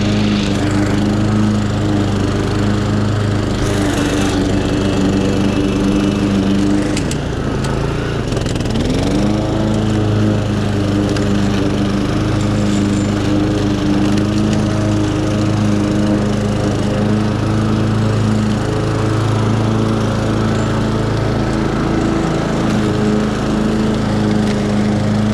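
A Honda HRX 537 lawn mower runs steadily through grass, its engine a loud, close, continuous drone with slight pitch dips as it cuts, and no talking.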